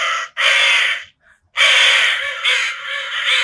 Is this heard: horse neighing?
no